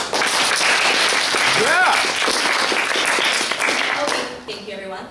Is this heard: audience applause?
yes